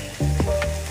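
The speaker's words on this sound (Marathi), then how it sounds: "पनीर टाकायचं" Paneer hits a hot pan for paneer bhurji, a loud, close sizzle starting abruptly, with a couple of scraping stirs through the frying hiss.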